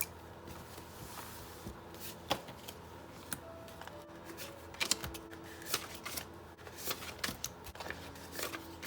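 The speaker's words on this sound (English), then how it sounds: "we're going to start rolling the dice" Dice rolling and clattering on a tabletop, with a string of sharp, irregular clicks and taps that rise and fall in bursts, near and moderately loud, no talking over them.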